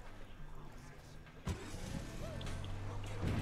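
A car in the open-world shooter Ghost Recon Wildlands sets off with a low engine hum and a sharp thump, then a rising motor drone, with talk over it.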